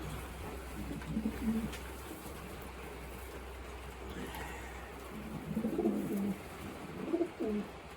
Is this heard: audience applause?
no